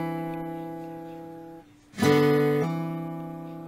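A hammer-on on the open 4th and 2nd strings of an acoustic folk guitar rings out alone: a sustained chord fades, a brief near-silence follows, then a bright new attack blooms and rings clearly.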